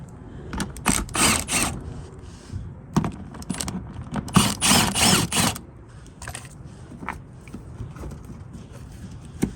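Wrench or ratchet work on 10mm bolts on a Honda Element front bumper, with repeated metallic clicks, rattles and jangling bursts in clusters, close and fairly loud, without talk.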